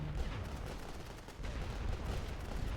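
Artillery in The Great War: Western Front video game fires a barrage, giving a dense, rumbling roll of overlapping booms with no gaps, loud and continuous throughout.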